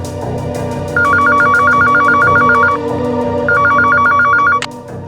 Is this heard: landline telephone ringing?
yes